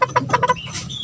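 A backyard chicken gives a quick series of four or five close clucks followed by a brief higher squawk, all within about a second.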